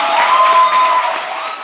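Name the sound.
studio audience applause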